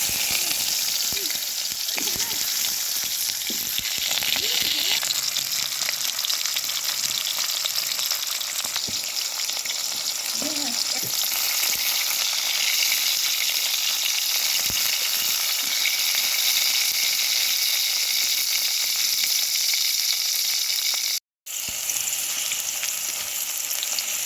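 Apple pieces fry in a small amount of oil for apple pickle, giving a close, continuous sizzle that stays steady throughout with no voices.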